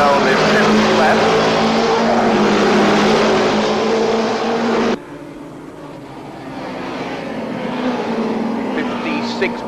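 Racing motorcycles roar past at close range during a six-hour endurance race, a loud sustained engine howl that cuts off abruptly and then gives way to a quieter, rising drone of more bikes approaching.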